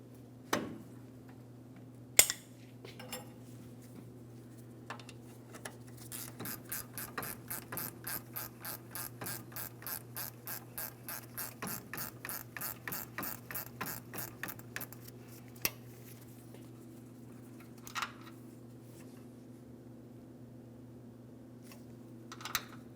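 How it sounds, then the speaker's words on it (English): A long wrench ratchets against a parking brake mounting bolt on a 2007-2014 GMC Sierra 2500 HD, a steady run of fast, close clicks for several seconds amid scattered metallic knocks and a low continuous hum. "I'm going to use a long wrench to help break this free"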